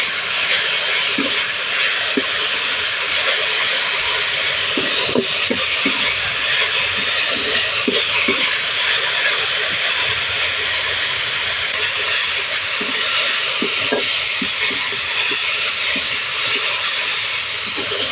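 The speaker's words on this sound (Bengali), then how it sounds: "পোস্তটা দিয়েও 1 মিনিট ভালো করে ভাজা করে নেব" Poppy seeds and red amaranth greens fry in hot oil with a constant, loud sizzling hiss, dotted with small pops and crackles, with no voices.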